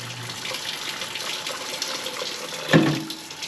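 Liquid being poured into an Instant Pot over a small corned beef brisket, a steady gushing pour with a brief louder splash near the end.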